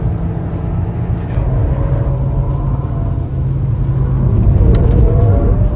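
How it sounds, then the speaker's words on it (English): Suzuki Swift Sport lapping a race track at a motoring festival, a steady close engine drone with road rumble that swells slightly toward the end, continuous and without talk. "I could not resist but go around the track in the Swift Sport"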